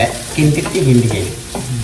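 Food sizzles in a hot pan while a utensil scrapes and stirs in quick, repeated strokes, close by.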